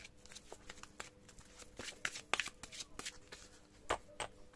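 Lenormand fortune-telling cards being shuffled by hand, a series of quick riffling flicks and soft slaps at irregular intervals, close and quiet with no talking.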